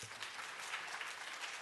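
Audience applause fills a public hearing of the Ways and Means committee on the minimum wage: a steady, dense patter of many hands, faint and distant, continuing without a break.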